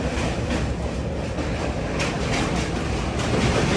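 The Ernakulam–Patna Biweekly Express rolls past at a station level crossing in heavy rain, a loud, steady rumble of wheels and carriages filling the whole stretch with faint rhythmic clatter.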